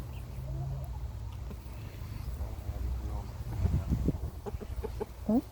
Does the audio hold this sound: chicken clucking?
yes